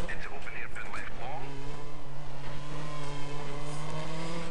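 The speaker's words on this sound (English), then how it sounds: "over rev, blow that engine up" A rally car engine in DiRT 3 revs hard and holds a high, strained drone, with someone talking over the start.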